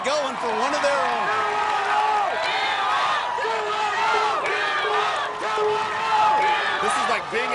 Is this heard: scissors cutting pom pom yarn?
no